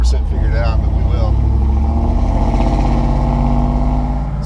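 A 700-horsepower Grand Wagoneer built as the Hellwagon drives with its windows down, its loud deep engine drone steady and close throughout, with a brief higher whine early on.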